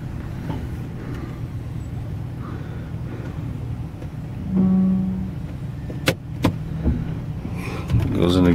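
A 2004 Kia Sorento with about 107,000 miles pulling away on a drive, its steady low engine and road rumble running throughout with a few clicks and a brief rise partway.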